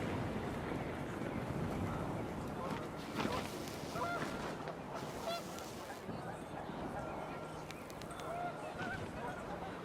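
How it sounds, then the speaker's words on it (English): Panicked geese honking in the video game What Remains of Edith Finch, a flurry of repeated honks and calls over gusting wind and rustling, with someone speaking at moments in the background. "The wind picked up, and panicked geese appeared and quickly went."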